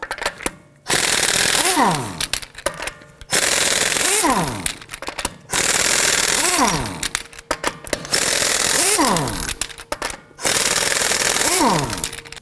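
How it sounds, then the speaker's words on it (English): An impact wrench with a 21mm socket hammers Toyota Camry lug nuts loose in five loud, rattling bursts of about two seconds each, separated by short gaps, with the motor pitch sweeping as each burst winds down. "Using our 21mm socket, we're going to loosen and remove the lug nuts."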